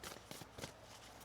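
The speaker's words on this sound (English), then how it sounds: "1 more shuffle." A deck of Moonology oracle cards being shuffled by hand, soft papery riffles in several quick bursts, close and quiet with no talking.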